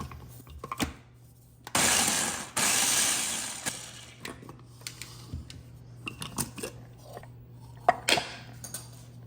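A blender pulses breakfast ingredients seasoned with garlic salt in two short, loud, roaring bursts near the start, then rattles and clinks of the jar and utensils follow in a quieter kitchen.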